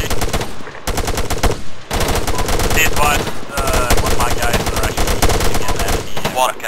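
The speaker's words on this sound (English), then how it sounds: "Never mind, it's a light MG." Light machine gun in ArmA 3 rattles off rapid, loud bursts of automatic fire almost nonstop, with only short gaps between the strings of shots.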